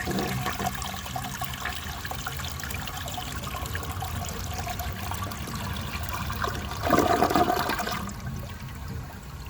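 A 1974 Borg Warner toilet flushes in a bowl loaded with dirt, with water running and gurgling steadily before a louder surge of draining near the end.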